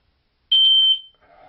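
A ceiling smoke detector sounds when its test button is pressed: one sharp, piercing electronic beep with a quick stutter, loud and close in a quiet room, followed by a faint lower tone.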